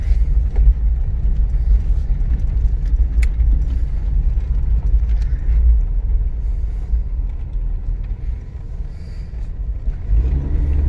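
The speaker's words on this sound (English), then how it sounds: "there's a heat shield somewhere that's rattling, as you probably heard" A Chevrolet S10 Blazer drives along with a steady low engine and road rumble, a loose exhaust heat shield adding faint intermittent rattles under the drone.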